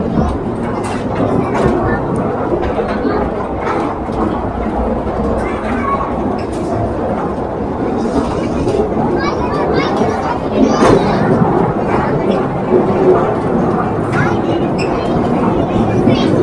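Train riding through a tunnel inside the Khewra salt mine in Pakistan, a continuous rumbling clatter of wheels and cars rolling steadily underground, with people talking over the noise throughout.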